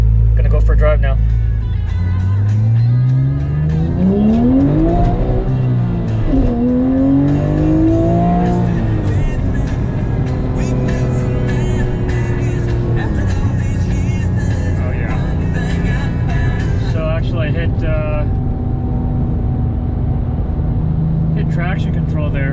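A Porsche 997.2 GT3 running a COBB tune pulls away, the engine climbing through repeated rising revs and shifts, loud and close, while someone talks over it.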